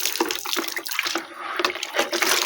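Tap water running and splashing while dishes are washed at a kitchen sink, a continuous close rush broken by irregular splashes and clinks, with no voices.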